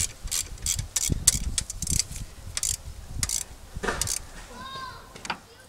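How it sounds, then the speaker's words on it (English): Ratchet tightening a small 12 mm metal bracket bolt on the alternator of a 2001 Toyota Avalon, giving bursts of quick metallic clicking strokes at close range, with short pauses between. "I'm going to tighten this little metal bracket bolt here"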